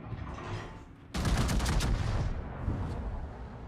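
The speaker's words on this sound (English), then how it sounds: "Oh no, he's shooting at me." Naval guns fire in a warship battle video game: a sudden loud broadside blast that rolls into a sustained rumbling barrage, with quieter gunfire fading toward the end.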